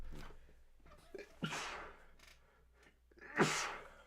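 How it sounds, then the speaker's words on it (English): A stifled sneeze with quick breaths before it, then a louder, sharper sneeze burst near the end, close to the listener. "I had to sneeze there."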